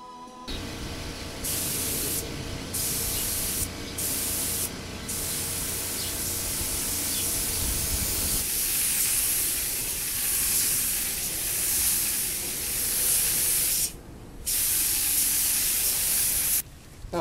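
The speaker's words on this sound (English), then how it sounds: "we're ready to spray clear" A steady, close spray-gun hiss of clear coat being sprayed runs throughout, broken by a few brief pauses in the airflow, with a low mechanical rumble under the opening seconds.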